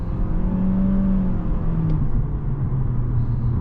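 2022 Lexus UX 200 with a CVT at full throttle, a steady, whirring engine drone that holds a nearly constant pitch as the car gains speed, heard from inside the cabin with no talking.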